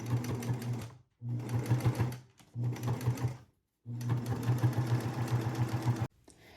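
Sewing machine stitching a pocket seam in bursts, backstitching forward and back over the top edge, loud and close with brief pauses between four runs of steady whirring.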